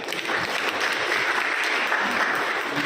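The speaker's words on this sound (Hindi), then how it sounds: "तो ताली बजाओ अगर आपको ये चीज अच्छी लगती है।" Audience applause in a traffic police station class, a dense, steady burst of many hands clapping continuously at close range with no voices on top.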